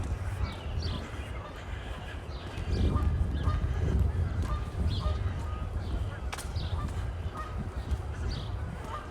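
Geese honking beside a misty lake on an April walk, several calls near and far over a steady outdoor wash of wind and ambient noise, with no voices.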